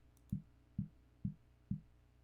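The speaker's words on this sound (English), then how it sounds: "This sound I made by accident when I bumped my mic." Four dull, low thumps spaced evenly about half a second apart, close and bassy, like something knocking against a microphone, with quiet hiss between.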